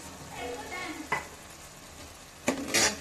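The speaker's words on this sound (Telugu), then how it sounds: "టమాటా వేసుకొని కొంచెం మిరియాల పొడి వేసుకుందాం" Tomato and pepper powder stirred into mutton frying in a pan: a faint, soft sizzle with two sharp spoon clanks against the pan, one near the middle and one near the end.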